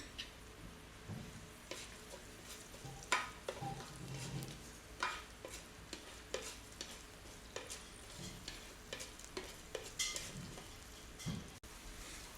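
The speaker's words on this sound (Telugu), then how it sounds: "1 టీ స్పూన్ జీలకర్ర, 1 టీ స్పూన్ మినపప్పు కూడా వేసుకొని ఫ్రై చేసుకోండి" Cumin seeds and urad dal fry in oil, a faint steady sizzle with crisp intermittent pops and the scrape and tap of stirring in the pan.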